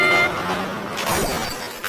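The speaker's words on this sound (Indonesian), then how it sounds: "Saat tangan Jung-hwa hampir menyentuh pecahan kaca" Glass shatters in a parking-lot scene with a car pulling out nearby, a sharp bright crash followed by scattered tinkling fragments over background street noise.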